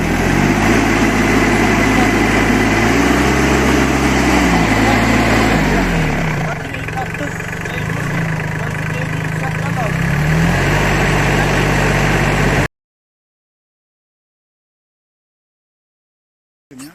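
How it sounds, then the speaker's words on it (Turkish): A tractor engine runs steadily at a fixed hand-throttle setting, a loud continuous drone with a slight dip midway, then it cuts off abruptly into silence near the end. "Bu sabit gazda tutmak için makinemizi, traktörümüzü sabit gazda bir iş yapıyoruz"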